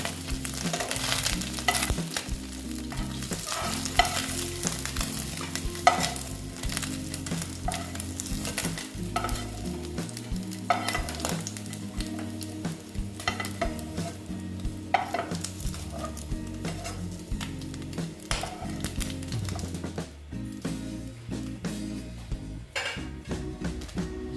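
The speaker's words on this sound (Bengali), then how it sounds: "আমি একটু কড়া করে ভাজছি" Small mourola fish frying crisp in oil, a steady sizzle under frequent scraping and clattering of a spatula and utensils against the pan.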